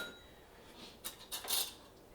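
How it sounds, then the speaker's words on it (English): A spoon stirs chicken wings in hot sauce in a bowl, a quiet stretch followed by a few short clinks and scrapes of metal against the dish, close and fairly faint. "Now it's time to mix it all in. Just start stirring and stirring and stirring."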